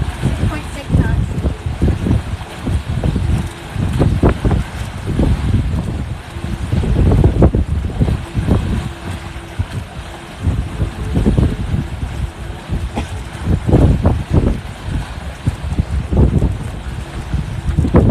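Wind buffets a sailboat underway at about 6.6 knots off Southwest Florida, a continuous gusty low rumble and flutter close to the microphone, with uneven surges throughout.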